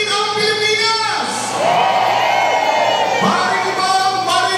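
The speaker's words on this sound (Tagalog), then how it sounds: "Pari ko ba ang marinig ang hiyawan ng mga taga Quezon City?" A loud crowd of supporters at a PDP-Laban political rally in Quezon City cheers and shouts in swelling waves of whoops and yells, close and continuous.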